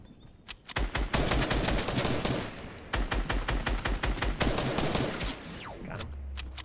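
Rapid assault rifle fire in the Fortnite video game, two long sustained bursts of sharp repeated shots, loud and close, with a brief pause between them and a falling tone at the end, no talk.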